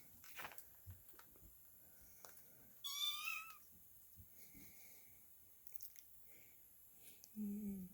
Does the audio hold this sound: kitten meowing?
yes